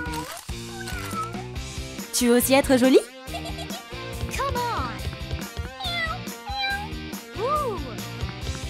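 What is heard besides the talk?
cat meowing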